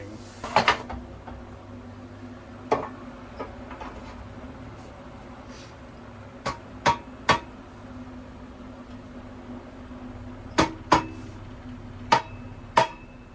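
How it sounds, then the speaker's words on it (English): An axe head is set onto a wooden handle with a series of sharp, close wooden knocks and taps, about a dozen spaced irregularly over a quiet background hum, with no talking. "we can go ahead and set the head and the handle, and we'll just do this like a normal axe hang"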